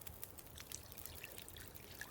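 Water pours and trickles steadily while making coffee in the video game The Long Dark, a faint, short liquid stream with light splashy flecks.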